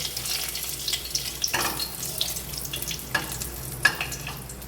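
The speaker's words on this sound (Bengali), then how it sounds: "কয়েক সেকেন্ড একটু ভেজে নিলাম, সুন্দর গন্ধ বেরিয়ে গেছে" Cumin, dried red chillies and a bay leaf fry in about two tablespoons of hot oil for a Bengali dish, giving a steady close sizzle with a few stirring scrapes and small spikes of spitting.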